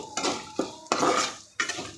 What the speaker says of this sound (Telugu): ఇప్పుడు మొత్తం కలదిప్పాలి